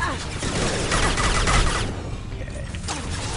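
Rapid gunfire in Mass Effect 2 aimed at husks' legs, dense bursts of shots packed together over the first two seconds, then thinning to scattered reports, with a voice talking over it.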